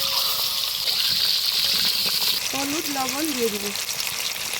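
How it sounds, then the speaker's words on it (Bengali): Chopped potato and vegetables dropped into hot oil tempered with five-spice in a home kitchen, a steady close sizzle and bubbling; someone speaks over it partway through. "তেলে 5 ফোড়নটা দিয়ে দিয়েছি, ফুটে গেছে, এবার কেটে ধুয়ে রাখা সবজিটা দিয়ে দিব।"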